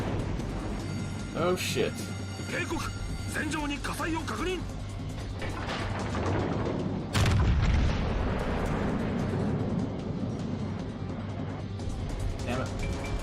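Heavy naval guns from the battlecruiser Alaska boom in the game World of Warships Legends, with a loud blast midway over ongoing engine rumble and sea noise, while someone talks and swears throughout.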